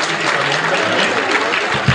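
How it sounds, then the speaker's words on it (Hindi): Loud, close applause from a crowd at a health camp event in Bhopal attended by the chief minister, a short burst of dense clapping at full volume. "एक बार जोरदार ताली बजाकर,"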